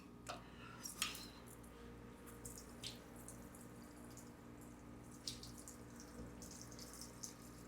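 Water splashing and running over a bare, unprotected car body panel during a water-behavior test on a Dodge Hellcat, a steady soft wash with faint drips and splatters, close and fairly quiet, with no talking.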